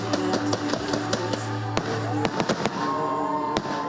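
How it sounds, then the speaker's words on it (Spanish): Fireworks burst at a wedding celebration, sharp cracking bangs in an irregular rapid series, some loud and close, over a steady low hum and faint crowd ambience. "La velada romántica tuvo un espectáculo de fuegos artificiales."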